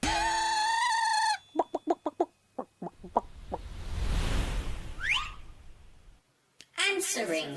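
A chicken gives a quick series of short clucks, followed by a stretch of rustling noise and a rising squawk. Brief voices are heard at the start and end.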